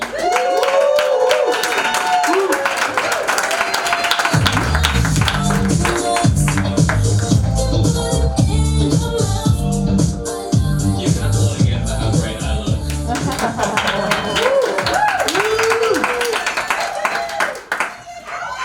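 Loud, sustained applause and clapping from a comedy club crowd in Los Angeles, filling the room throughout, with music and a performer speaking over it.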